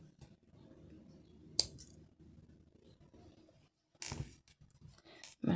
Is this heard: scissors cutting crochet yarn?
yes